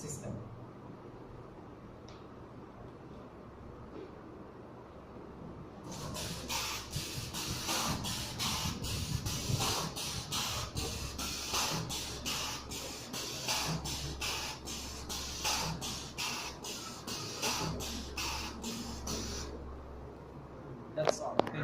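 Pneumatic cylinders A, B and C start up in sequence, giving a steady hiss of compressed air with rapid repeated bursts of venting as the actuators extend and retract, fairly close and continuous for most of the stretch.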